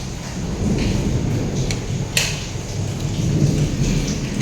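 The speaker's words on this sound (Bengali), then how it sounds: "মেঘ ডাকছে দেখেছো কীরকম বিদ্যুৎ চমকাচ্ছে" Heavy rain pours steadily while thunder rumbles and one sharp crack breaks through near the middle, loud and close with no voices.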